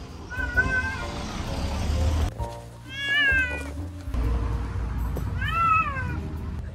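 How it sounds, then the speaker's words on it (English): A distressed cat meows repeatedly from inside a carrying bag, drawn-out wavering cries separated by short pauses, fairly close against a low background hum. "I heard her meowing and meowing and meowing."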